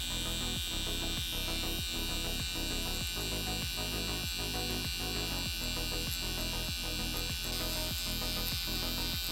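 A permanent makeup pen machine buzzes steadily and close up throughout, a constant motor whine with a fast regular pulsing rhythm, worked with very light pressure during a color boost touch-up; no talking.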